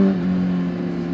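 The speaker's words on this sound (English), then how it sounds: "little bit of revs for the boys." Steady engine drone from a Honda CBR600RR sport bike revving out on the road, a sustained mid-pitched mechanical hum holding fairly constant over a brief moment, close and without talk.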